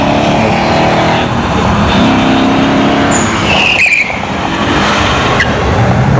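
A Mustang drag car launches at ShowTime Dragstrip during a test-and-tune session, its engine roaring loud and close with a brief tire squeal partway through as it pulls away, the engine noise continuing steadily.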